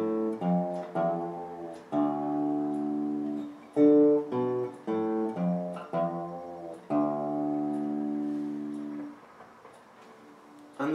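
Blues bass line on guitar, plucked with the thumb on the bottom three strings, including a bend on the sixth string; a series of distinct low notes with short pauses, moderately quiet and unaccompanied.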